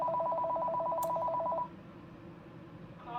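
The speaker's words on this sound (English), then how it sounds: "house phone has to ring" A house phone rings indoors with a rapid electronic warbling trill lasting over a second and a half, moderately loud, then falls quiet before a second ring begins to sound at the end.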